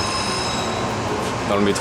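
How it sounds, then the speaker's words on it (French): A subway train near Harvard rumbles loudly nearby, a steady roar of wheels on rails with a brief higher squeal near the end. "me voilà dans le métro."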